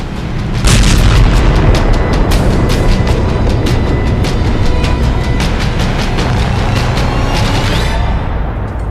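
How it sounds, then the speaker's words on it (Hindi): Ukrainian attack on a Russian artillery unit: a continuous roar of heavy booms and blasts with sharp cracks, loud and sustained for several seconds before tapering off at the end. "रूस की आर्टिलरी यूनिट पर यूक्रेन का हमला, रूस के जखीरे पर यूक्रेन का अटैक"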